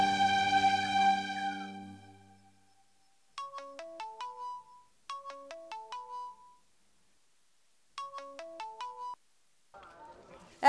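Mobile phone ringtone of an incoming call, three repeated bursts of a descending electronic melody separated by short gaps, clear and close, following a louder sustained tonal sound at the start.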